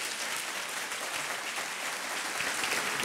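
An audience applauds at the close of a lecture on technology and human anatomy, a steady wash of many hands clapping, moderately distant and even throughout.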